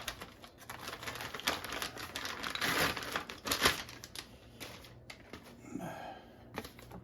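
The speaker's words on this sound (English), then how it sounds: "Get it out of the packaging." Packaging crinkles and rustles around a Wallke H9 AWD e-bike as it is unpacked, with irregular crackling bursts, a few sharp snaps and scraping, close by and moderately loud.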